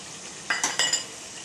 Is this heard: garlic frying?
yes